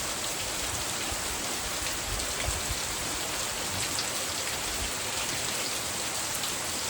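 Heavy morning rain pours down steadily on a farm, a dense continuous hiss of drops striking surfaces, loud and unbroken with no voices.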